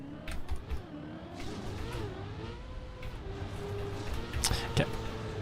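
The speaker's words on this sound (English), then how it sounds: "The new car sound is crazy." A racing video game car engine revs and shifts pitch in a continuous droning whine, heard under ongoing talk with brief spikes near the end.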